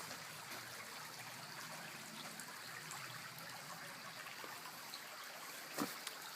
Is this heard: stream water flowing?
yes